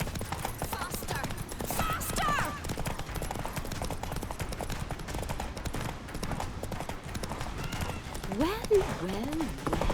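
Geralt's horse Roach gallops in The Witcher 3, hooves pounding in a fast, steady rhythm under rushing wind, while characters shout over the ride.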